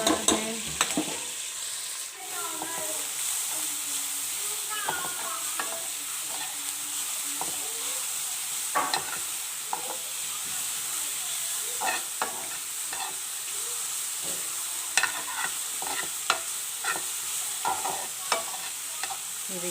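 Vegetables and onions softening in a frying pan, a continuous close sizzle broken by repeated spoon scrapes and knocks against the pan throughout, no voices.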